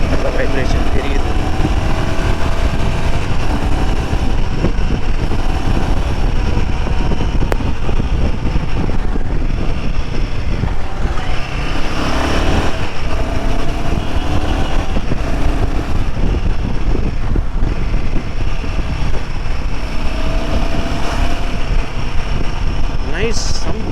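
A Royal Enfield Himalayan 450 motorcycle rides steadily, its engine hum and wind rush constant and close throughout, with the rider talking over it.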